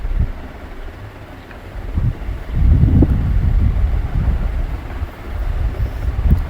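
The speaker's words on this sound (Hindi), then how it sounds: "बहुत तेज़ हवा चलने लगी है इस टाइम पर बहुत ज़्यादा तेज़ है" Strong wind buffets a microphone high up on the Rathoa Haryam bridge near Mirpur and Mangla Dam, a rough, gusting roar that surges and eases, loudest in the middle, with no talking.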